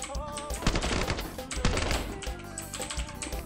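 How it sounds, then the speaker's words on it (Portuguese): Rapid bursts of automatic gunfire and sharp single shots in the mobile shooter Standoff 2, crackling densely in overlapping volleys across a few seconds of a match. "Tiroteio esse."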